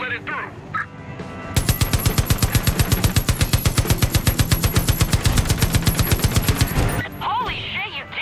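Truck-mounted machine guns firing in the video game Far Cry 5, a loud, fast, steady stream of shots lasting several seconds, with game sounds and a voice before and after the burst.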